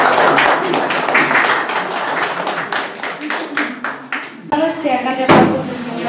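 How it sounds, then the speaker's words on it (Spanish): An audience claps steadily at a public meeting in Casa Grande, welcoming a woman doctor. Dense, sustained applause fills the room for several seconds, then fades as a voice begins speaking close to the microphone. "yo quisiera de que la recibamos con un aplauso a ella"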